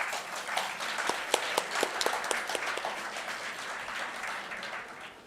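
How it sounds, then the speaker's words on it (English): An audience at an HR summit applauds to welcome a trustee: dense, sustained clapping that swells and holds, then slowly thins out toward the end. "Let's welcome him with a round of applause"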